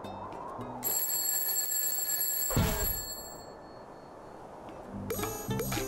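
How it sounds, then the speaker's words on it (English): An alarm in SpongeBob SquarePants: The Cosmic Shake rings in a steady, high, bell-like tone for a couple of seconds, then cuts off. A brief whoosh follows, and a short burst of ringing returns at the end. "Oh, now the alarm wants to get off,"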